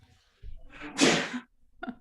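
A single sharp sneeze from a man bursts out close and loud amid a quiet room, its noisy burst followed by a brief trailing breath.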